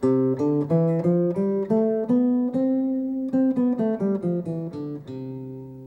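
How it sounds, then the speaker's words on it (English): Clean plucked acoustic guitar notes climbing a major scale one at a time, then descending, each note ringing briefly at a steady, even pace. "music, the most common scale is the major scale."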